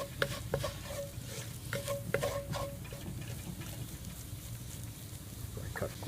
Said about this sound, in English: We want to cook this just long enough to slightly start to brown the roux